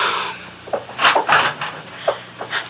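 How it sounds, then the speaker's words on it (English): A door swings open in a vintage radio mystery drama, a close, rustling creak with several soft knocks and latch clicks spread over a few seconds, with no talking. "Paula, please open the door, Dave."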